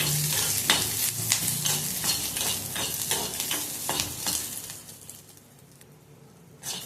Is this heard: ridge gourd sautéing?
yes